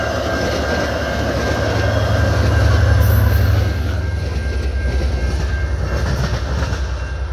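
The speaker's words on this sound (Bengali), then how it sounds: "ট্রেনটা দ্রুত গতিতে বেরিয়ে গেল।" A double-decker diesel train rushes at high speed past a railroad crossing with lowered gates; a loud, continuous roar of wheels and wagons swells near the middle and then holds as the cars stream past, with no voices.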